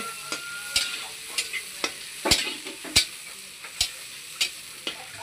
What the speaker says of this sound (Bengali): এবার তেলে আমরা পেঁয়াজ দিয়ে দিব। পেঁয়াজটাকে ভালো করে গরম করে নেব, লাল করে নেব।